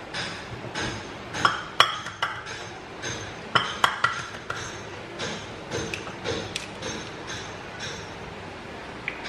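Raw egg poured into a small bowl for poached eggs, a run of close clinks, light taps and thuds from shell and dishware with quiet stretches between.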